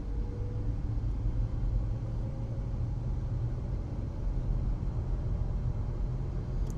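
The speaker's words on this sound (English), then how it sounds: "So we're just going to take a little drive here." A Rivian electric vehicle drives along steadily in an interior cabin recording, heard as a constant low road rumble and tire hum with faint broadband wind noise, no engine note and no talking.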